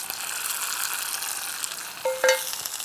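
Toasted spices, including mustard seeds, fenugreek and curry leaves, hit a pot of dal with a close, hissing sizzle that flares sharply near the end, alone with no voices.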